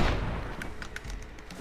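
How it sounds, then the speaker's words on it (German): Several gunshots in the video game Red Dead Redemption Undead Nightmare, fired at an undead enemy, crack out in a quick uneven string over low rumbling game ambience, moderately loud with no talk. "Für den habe ich mal absichtlich ein paar Schüsse mehr verwendet."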